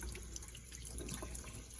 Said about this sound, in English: turn the water on to a slower speed